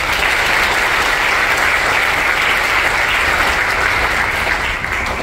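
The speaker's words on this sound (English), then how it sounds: "Let's give them a big round of applause." Audience applause at a baccalaureate and recognition ceremony for graduating medical laboratory science students: dense, steady clapping from a large crowd, sustained loudly throughout and easing slightly at the very end.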